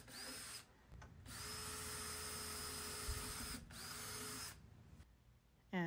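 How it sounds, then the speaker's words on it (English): A power drill whines steadily in three long runs with short pauses between, close and loud, spinning up and winding down each time, drilling holes in dresser drawers. "now I can drill all the holes"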